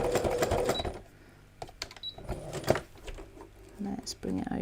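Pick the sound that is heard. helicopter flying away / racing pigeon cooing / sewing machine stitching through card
sewing machine stitching through card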